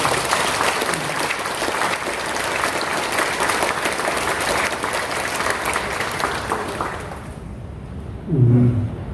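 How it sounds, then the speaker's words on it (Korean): Sustained applause from a temple congregation welcoming newly elected members at a Buddhist farewell dharma service, loud and steady for about seven seconds before fading into quiet, with a brief low thump near the end. "우리 큰 박수로 한번 환영합니다."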